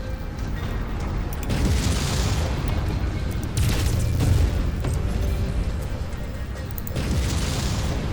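In MechWarrior 5: Mercenaries, a base wall is shot at its footing and comes crashing down: a continuous rumbling roar with repeated heavy booms and crumbling bursts swelling every few seconds.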